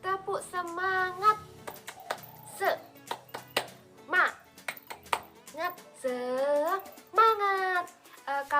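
Children chanting a rhythmic spirit clap call in a classroom, voices rising in bursts with scattered hand claps and taps between shouted phrases, close and lively.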